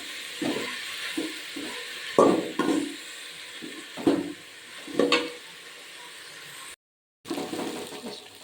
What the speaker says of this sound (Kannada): ಎರಡು ಟೊಮೊಟೊ ಕಟ್ ಮಾಡಿರೋದು ಹಾಕ್ತಾ ಇದ್ದೀನಿ ಆಗುಕೆ ಜೊತೆ ಟೊಮೊಟೊನ ಫ್ರೈ ಆಗಿ ಒಂದು ಹತ್ತು ನಿಮಿಷ ಚೆನ್ನಾಗಿ ರೋಸ್ಟ್ ಮಾಡಬೇಕು